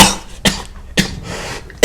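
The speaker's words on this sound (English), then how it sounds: "Oh, that makes me cough." Three sharp coughs from one person, spaced about half a second apart, close and loud with quiet pauses between them.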